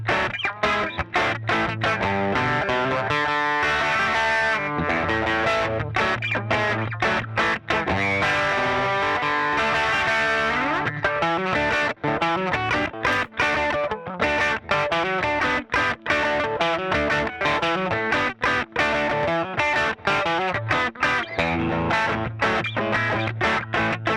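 An electric guitar fitted with Jon Kammerer Customs tone pods plays through a Fender amp driven by a Tube Screamer, giving a loud, distorted run of strummed chords and ringing sustained notes, steady and continuous with no talking.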